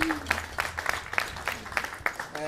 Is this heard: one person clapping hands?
yes